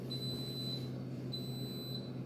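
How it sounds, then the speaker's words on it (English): An appliance gives a steady high electronic beep, sounding twice in long tones over a low background hum. "Okay, so it's beeping."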